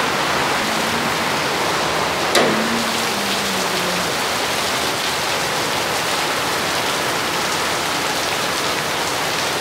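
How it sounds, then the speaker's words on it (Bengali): Steady, dense heavy rain drums on a tin roof in Bangladesh, a continuous loud hiss with one brief louder knock partway through. "আমাদের টিনের চালা বৃষ্টির শব্দ"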